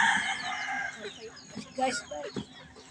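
Turkeys and chickens cluck and call close by, a busy flock waiting for food, with a rooster-like crow at the start and scattered clucks after.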